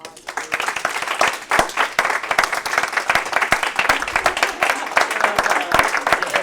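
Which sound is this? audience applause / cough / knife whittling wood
audience applause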